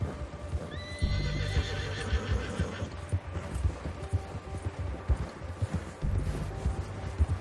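A horse in Red Dead Redemption 2 lets out a clear whinny, followed by steady clip-clopping hooves and snorting, fairly close with no talk.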